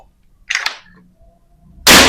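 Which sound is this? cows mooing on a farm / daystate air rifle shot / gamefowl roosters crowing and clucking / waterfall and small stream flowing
daystate air rifle shot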